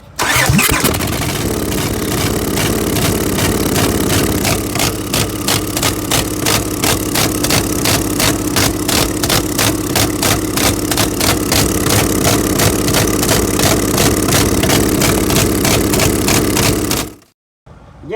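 A 2003 Honda 3.5-liter V6 with a misfire cranks and then runs loud and close for most of the clip, its steady roar pulsing with a rough, uneven beat before it cuts off sharply near the end.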